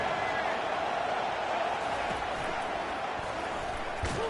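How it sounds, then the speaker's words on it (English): A broad, steady roar of a stadium crowd fills the game College Football 25 during a defensive stand, a loud continuous wash of massed voices with no distinct talk. "Listen to this crowd just shaking the girders of this place"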